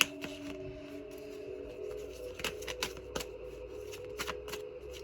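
Tarot cards are side shuffled by hand, giving a quiet series of crisp riffling flicks and taps over a faint steady hum, with no talk.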